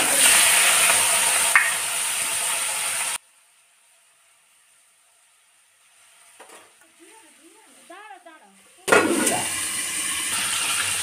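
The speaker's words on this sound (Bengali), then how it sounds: "দেখো তেলটা গরম হয়ে গেছে, আমি কালো জিরেটা দিয়ে দিলাম, তার সঙ্গে কাঁচা লঙ্কাটা দিয়ে দিলাম" Black cumin and green chilli hit hot oil with a loud, steady sizzle that breaks off into near silence with faint clatter, then a strong sizzle returns, all without talk, while hilsa fish with brinjal is being cooked.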